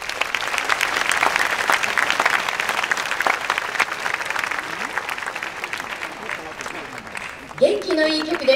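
An audience at a joint Osaka high school brass band concert claps in a sustained wash for about seven seconds, fading as tonal sounds enter at the end.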